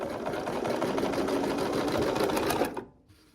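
A sewing machine stitches quilt pieces for a peppermint pinwheel and ribbon candy quilt, running in a fast, steady, close-up whir for under three seconds before stopping abruptly.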